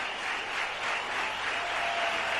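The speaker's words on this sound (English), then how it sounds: "You hear the applause, Jeff?" Crowd applause fills a cricket stadium in Mumbai during an India versus Australia one-day match, a steady, distant wash of clapping from a large crowd that holds evenly throughout.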